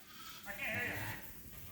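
Sheep bleating inside a barn on a sheep farm, a single drawn-out bleat at moderate distance over low barn background noise.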